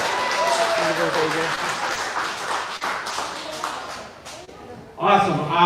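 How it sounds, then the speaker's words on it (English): An audience at an Urban Playground preteen division event claps in a broad wash of applause that fades gradually, with voices and cheering mixed in and a louder voice cutting in near the end. "let's give a big round of applause for our preteen athletes."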